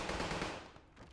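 Video game gunfire in a team deathmatch: a short, fairly quiet burst of rapid automatic shots rattling for about a second with no talk.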